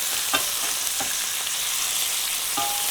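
Pork chops fry in a pan with a steady, dense sizzle throughout, and a few soft clicks and scrapes of a utensil come through on top. No voices.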